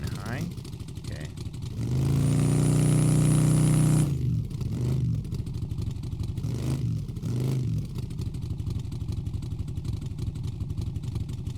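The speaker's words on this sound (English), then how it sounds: "When it's sitting here idling, it needs the turbo to spool up to where you hear it back here." A truck engine with a turbo revs up in a sustained, rising roar for about two seconds, then settles back to a rough, pulsing idle with periodic throbbing surges, close by, with people talking nearby.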